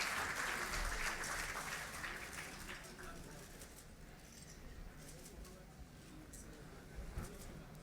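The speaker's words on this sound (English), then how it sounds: "Let's give her a warm round of applause as she comes to the stage." Faint, distant applause from an audience at a World Hepatitis Day 2016 event greets the chief guest as she comes to the stage, starting fuller and slowly tapering off.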